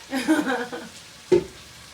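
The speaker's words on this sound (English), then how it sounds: "stir fry again" Lamb keema with potatoes and peas sizzling and being stir-fried in a hot pan, a scraping burst of stirring followed by a brief pause and another quick scrape.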